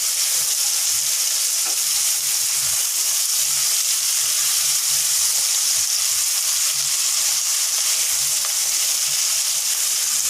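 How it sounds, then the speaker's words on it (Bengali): Onions sizzle and spit steadily in hot oil with frying fish in a pan, a dense close hiss with occasional stirring scrapes. "এখন পেঁয়াজ দিয়ে দিব, মাছ ভাজির মধ্যে পেঁয়াজ দিয়ে দিলাম।"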